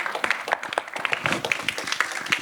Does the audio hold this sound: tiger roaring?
no